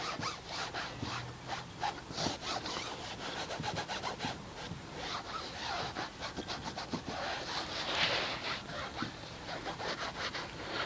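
Mastersons tire shine being rubbed onto a car tire, making a brisk, rhythmic scrubbing and rubbing sound up close, continuous with quick repeated strokes.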